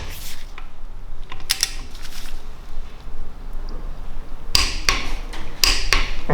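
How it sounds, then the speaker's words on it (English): A torque wrench ratchets and clicks on a balance shaft nut of a BMW N47 diesel engine, with two clusters of sharp metallic clicks, close and distinct over quiet workshop background. "going to tighten up this nut to 70 Newton meters"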